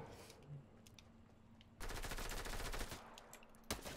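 Video game gunfire in a shooter match, a quiet lull followed by a sudden loud burst of rapid automatic fire, then a brief pause and another sharp volley near the end.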